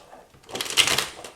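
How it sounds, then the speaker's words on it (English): Tarot cards being reshuffled by hand, a short crisp riffling burst that rises and fades within about a second, close and clear, with no voice. "Let me do the reshuffle."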